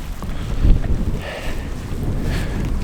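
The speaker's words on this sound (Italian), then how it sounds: "c'è super vento, speriamo che il microfono faccia il suo lavoro," Strong gusts buffet the microphone beside a mountain lake at Cima d'Asta, a loud, close, rumbling wind noise that surges and dips continuously with no speech.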